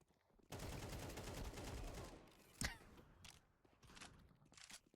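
Automatic gunfire in Counter Strike 2, a dense sustained burst of rapid shots for about two seconds, then a sharp single crack followed by scattered quieter clicks and shuffles.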